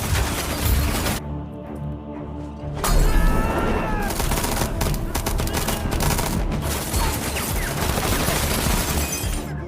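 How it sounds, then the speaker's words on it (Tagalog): A film shootout in which a hitman is fired on by several gunmen: dense, loud bursts of gunfire with breaking and shattering, a short lull, then rapid volleys continue. "Pagkatapos ay pinagbabaril siya ng mga natitirang tauhan ni Tamara."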